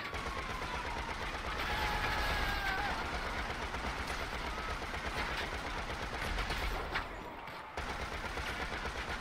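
Enemy gunfire in GTA Online rattles in quick repeated bursts at moderate distance. The shots are dense and steady over engine-like rumble and game background noise, with a brief dropout near the end.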